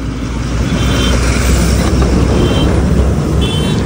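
Steady, loud rumble of vehicles idling and creeping past in a long traffic jam, with oncoming cars and trucks close by and a constant engine drone throughout, no talking.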